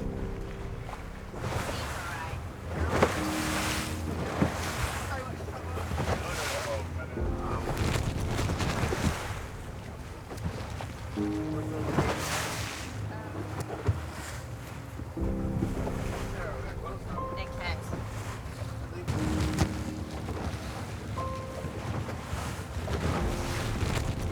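Ocean waves surge around an ocean rowing boat crewed by an American team on the Talisker Whisky crossing, with repeated wash and slosh over heavy wind noise and people talking.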